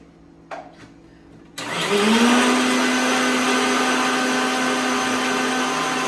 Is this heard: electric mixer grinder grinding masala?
yes